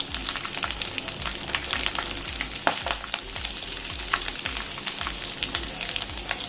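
Chopped green chillies and garlic fry in hot oil in a pan for a Koli-style karadi fish fry, a loud continuous crackling sizzle with dense spitting pops and occasional utensil clicks, close and unbroken.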